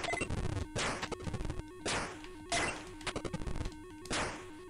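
Shooting effects from the Sega SG-1000 game Orguss, harsh repeated electronic bursts and crashing blasts every second or so, with rapid stuttering noise between them and no voices.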